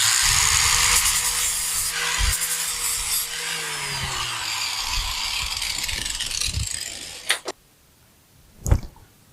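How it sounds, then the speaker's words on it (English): A grinder working down a brazed repair on a cast iron handplane clamped in a vise, giving a loud continuous abrasive whine that slows and drops in pitch before cutting off, followed by a couple of clunks. "let's take it over to the vise, grind down what we have here"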